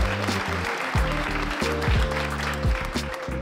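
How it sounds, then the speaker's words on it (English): Crowd clapping at a brunch event celebrating women in sport, a steady wash of applause over a loud musical backing that keeps playing throughout. "That deserves a round of applause."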